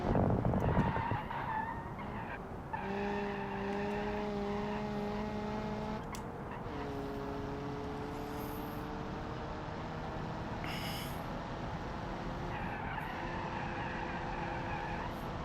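Race car tires squeal in the BeamMP video game at Suzuka, a loud, sustained tonal screech that shifts pitch in long held stretches over constant engine and road roar, close and continuous for the whole stretch with no talking.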